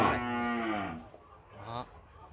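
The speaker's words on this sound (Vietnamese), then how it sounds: "thấy bà con nhìn cái dãy bò này nó dài cực kỳ" A La Hai farm cow in a long row of cattle gives one loud, drawn-out moo close by, followed by a shorter, softer low call.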